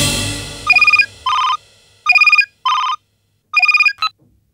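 Electronic telephone tone for an outgoing call rings in five or six loud, clean bursts with brief gaps, alternating between two pitch patterns, with no voices over it.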